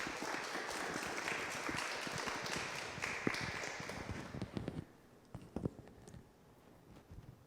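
A crowd gathered for a talk by a priest at a religious event applauds loudly, sustained clapping for about five seconds, then thinning to a few scattered claps.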